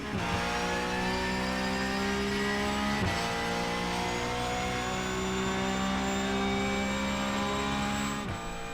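A race car engine in the iRacing simulator holds steady at high revs through a hot lap, with two brief dips as it shifts gears. The engine is loud and continuous and no one talks.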